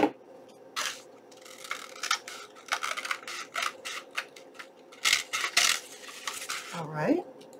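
Scissors trim a paper window corner hanger tag with a dangle, giving a run of short, close clicks and snips in irregular bursts with a few sharper cuts and a brief rustle near the end.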